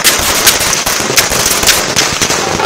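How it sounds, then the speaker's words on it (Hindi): Dense, rapid crackling and popping of fireworks set off to celebrate an election victory, loud and continuous with sharp bursts throughout. "कहीं जीत की आतिशबाजी हो रही है"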